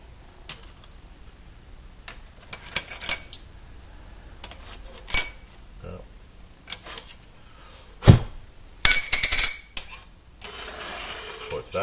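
A muffin pan and a plate are handled in a kitchen, making scattered light clicks, taps and knocks with a few louder clatters near the end, close by with quiet surroundings.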